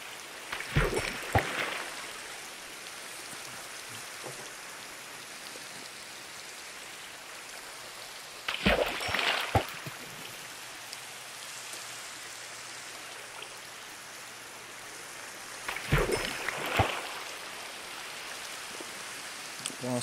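Rain falls in the video game Minecraft as a steady soft hiss. A few louder, brief bursts stand out near the start, middle and end.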